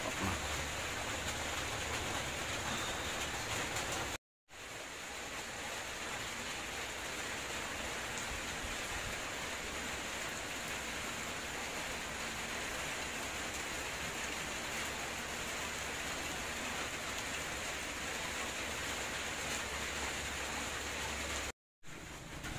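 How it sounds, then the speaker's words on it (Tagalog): Steady outdoor rain falls in the Philippines, a dense, even hiss that runs unbroken apart from two brief cuts to silence. "Umahambon pa pero sige, suungin na natin yung ulan."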